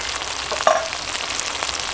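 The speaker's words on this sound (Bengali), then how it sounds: "এবার কিন্তু মশলা খুব ভালো করে কষতে হবে।" Spice masala frying in oil while stirred for chicken chaap, a dense, close sizzle with a brief scrape of the spatula partway through.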